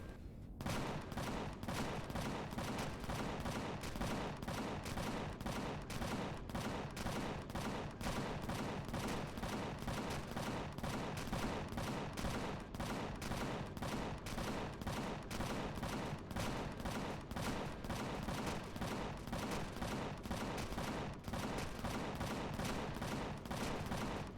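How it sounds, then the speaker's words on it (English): Minigun turrets in the Empyrion space game fire in a dense, unbroken rapid stream of gunfire, loud and sustained throughout with no pauses. "that sounded almost like my minigun turrets on the bottom lighting things up"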